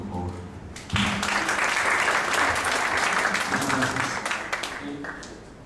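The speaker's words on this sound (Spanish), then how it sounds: "Pido un aplauso, por favor." Audience applause at a legal conference in Mexico, a burst of clapping that starts abruptly after a short spoken lead-in, then holds steady and dense before tapering slightly at the end.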